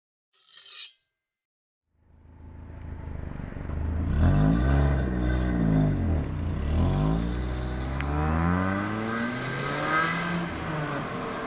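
Japanese kei car starting off and driving, its small engine rising and falling through gears with a loud, boxy interior drone that holds steady near the listener, preceded by a brief click.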